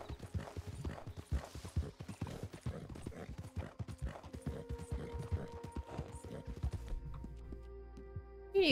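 Horse hooves clip-clop in a steady trotting rhythm in the Red Dead Redemption 2 video game, fairly close, with a faint whinny toward the end as the footfalls fade out.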